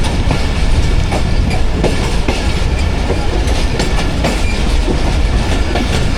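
The Hazara Express passenger train runs near Nawabshah, Pakistan, a continuous loud rumble with rhythmic clickety-clack of wheels over rail joints and faint squeals, with no voices.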